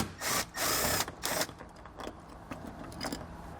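A power tool runs in short loud bursts while backing an 8mm bolt out from behind a removed cover on a vehicle panel, sitting close with a busy high whir, followed by quieter clicks and rattles.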